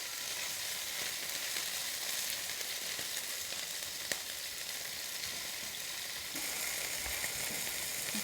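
Chicken sizzles steadily in a hot pan as it browns, a constant bright crackling hiss with a few small pops, close and unbroken, with no talking.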